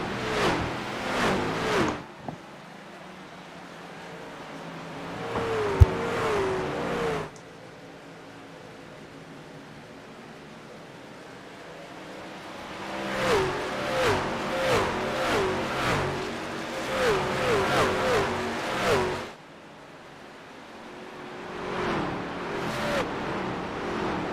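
Race truck engines in iRacing at Gateway, loud droning engine roar with passing trucks swelling and fading, rhythmic gear-shift revs and stretches of quieter running between bursts.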